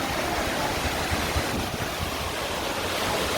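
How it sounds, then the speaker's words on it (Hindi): A waterfall at Bhandardara near Igatpuri pours in a steady, broad roar of rushing water, continuous and fairly close with no voices over it. "ये वाटरफॉल है।"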